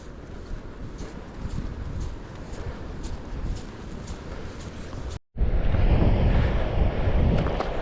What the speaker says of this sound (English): the wind's picking up already